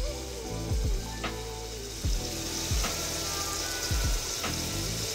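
Mutton frying in a pan for a spicy dry Marathi dish, a steady close sizzle broken by several clanking stirs of a metal spoon, with no talk.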